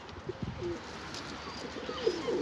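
Pigeons in a loft with a nest of young birds give soft, low cooing calls that are faint and intermittent over a quiet background hum.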